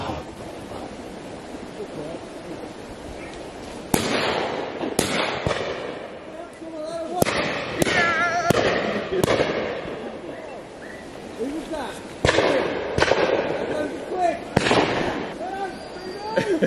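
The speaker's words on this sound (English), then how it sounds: "Oh, shot, Jules." Shotguns fire at a pheasant shoot on Exmoor, sharp outdoor cracks scattered at irregular intervals, some in quick pairs, mid-distance over windy open-air background, with people talking between shots.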